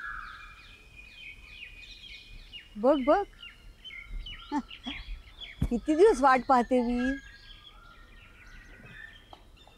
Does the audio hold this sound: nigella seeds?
no